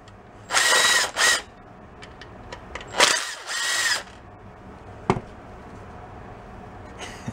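Screws being backed out of the wiring setup on a Cushman Meter Maid vehicle, with two short bursts of power-driver whirring, a pause, a longer grinding burst, then a sharp metallic click, close and without talk.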